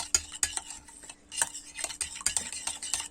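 A spoon stirs a rice salad dressed with olive oil in a bowl, giving close, repeated scraping clinks in an uneven rhythm.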